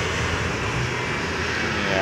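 Jet aircraft engine roar from the video game Air Conflicts Vietnam, a steady loud continuous rumble and hiss filling the whole clip, with no pauses.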